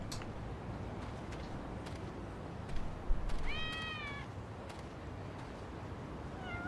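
A cat in the video game Lost Judgment meows once, a short rising-falling call standing out clearly over a steady ambient game background.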